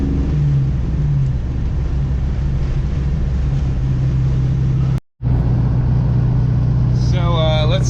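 A manual-transmission car drives with a steady engine drone and road rumble that cuts out for a moment near the end and then resumes, with people talking over it inside the cabin.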